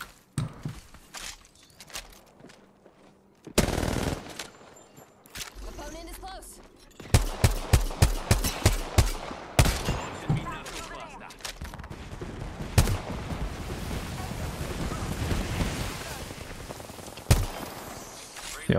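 Gunfire in Apex Legends, rapid bursts of automatic weapon fire, loud and close, repeating in quick volleys after a single early shot, with in-game effects and a player speaking over it.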